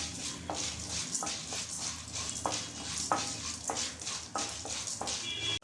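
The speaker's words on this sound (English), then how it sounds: "To this you have to add even the Urad Dal and fry it well for a minute" Chana dal and urad dal fry in hot oil for a tomato onion chutney, a steady close sizzle with regular stirring scrapes about every half second, no voices.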